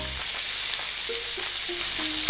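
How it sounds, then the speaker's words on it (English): Large pork chops sear in a hot pan, a loud, dense, continuous sizzle filling the short stretch with faint clinks beneath and no talk. "So get the sides seared off."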